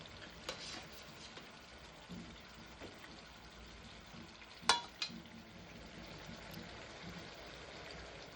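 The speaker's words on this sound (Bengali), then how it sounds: "ঝোলটা ফুটছে" Bhetki fish curry gravy bubbling and sizzling in a pan, a soft continuous simmer with light crackle and one sharper clatter partway through, heard close with no talk.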